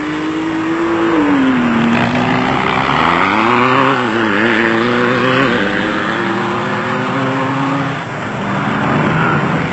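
Off-road race vehicles, including a V8 Raceco, roar past during the 1996 Roof of Africa race. A loud, continuous engine drone rises and falls in pitch as they rev and shift, with rough broadband noise throughout.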